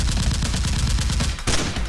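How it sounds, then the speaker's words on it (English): Rapid gunfire sound effects in a Nerf gun fight scene, a fast, loud burst of repeated shots with a sharp crack near the end. "Two henchmen run out and return fire at Tony."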